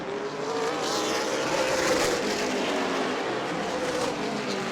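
Stock race cars roar around an oval track in a dense, continuous engine drone that swells and fades slightly as the cars pass.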